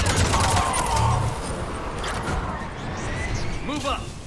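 Mounted gun fire from Mass Effect 3 combat, heard as a dense rattling barrage that fills the scene, with mixed battle noise and a voice talking over it.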